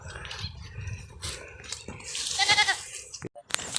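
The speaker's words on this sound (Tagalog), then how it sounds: "parang nagugutom yung mga kambing mga guys oh" Anglo-Nubian and Boer goats bleat while being fed on a farm, several short calls close by over rustling and shuffling, with a voice speaking briefly among them.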